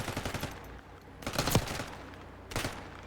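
Gunfire from a player standing up from a crouch in the shooter game Black Ops 6 ranked play: a short rattling burst, then two louder bursts later, close and fairly loud with no talking.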